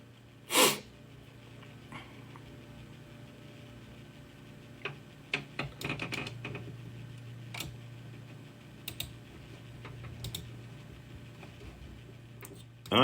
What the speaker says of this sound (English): I'm so going to sneeze.